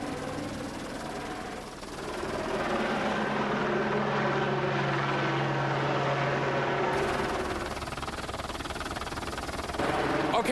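A helicopter drones loudly and steadily overhead with a low rotor hum, staying close throughout while people speak faintly underneath.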